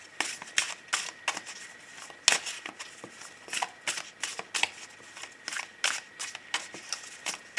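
Tarot cards shuffled for a Christmas reading, a steady run of crisp riffling snaps close up, with no talking.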